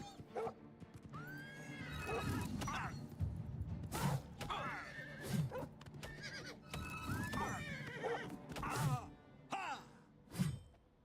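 Horse whinnies and neighs repeatedly in the Oblivion Remastered video game, with hoofbeats clip-clopping underneath, several loud whinnies spread across the stretch over steady background game sound.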